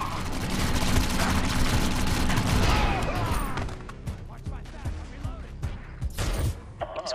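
Gunfire roars in the video game Defiance, a loud, dense fusillade of overlapping shots that rattles continuously before thinning into sharper scattered bursts.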